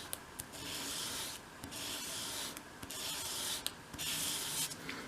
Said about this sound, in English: we're going to bevel them on all sides. So again, just hold it against your sandpaper,